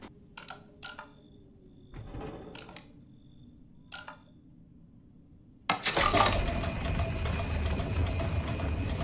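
Clock in the Resident Evil 7 video game: a few sharp metallic clicks and ticks from winding, then a loud sustained bright ringing chime that swells in and holds to the end.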